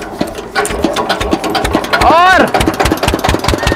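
A sugarcane crusher machine with a gearbox chugs loudly after starting, its engine beating in rapid rhythmic pulses close by while someone talks over it.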